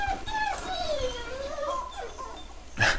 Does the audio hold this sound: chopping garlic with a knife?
no